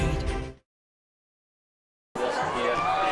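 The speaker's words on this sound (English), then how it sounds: "the Belfry cheerleaders there as they are cheering on the Pirates" Cheerleaders at a Belfry Pirates high school football game on Pine Mountain cheer among a crowd, with busy shouting and chatter that cuts out completely for about a second and a half before resuming at the same level.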